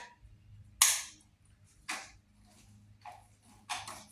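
A 1939 Indian 439 Four motorcycle gets several priming kicks on its kick-starter. They come as sharp, separate mechanical clacks about a second apart, close and moderately loud, and the engine does not fire. No one talks.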